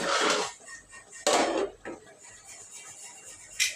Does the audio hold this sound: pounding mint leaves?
yes